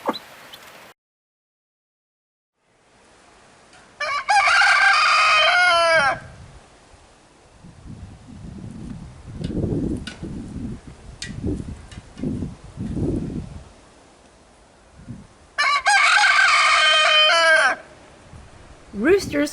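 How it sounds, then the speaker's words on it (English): A rooster crows loudly and close by, two long strained calls several seconds apart, with a stretch of speech and soft farmyard rustling between them. "Roosters crow first thing in the morning to wake the farm up."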